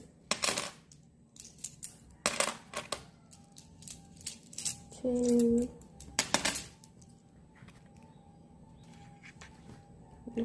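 Loose coins, new ones, clinking and dropping from an opened coin bank, with sharp metallic clatters in scattered bursts and a brief rattle midway, then quieter toward the end.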